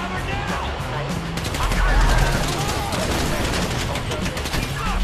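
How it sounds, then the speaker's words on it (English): Dense, continuous gunfire during a shootout in Grand Theft Auto V, rapid overlapping automatic bursts filling the scene at a steady high level, with the heaviest barrage near the middle and voices breaking in. "So I guess we're shooting our way out of here."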